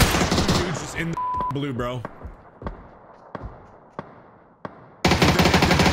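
Bursts of PUBG battle-royale gunfire: a dense rattling volley opens, scattered single sharp shots follow, and another heavy burst closes, with someone talking over the middle stretch.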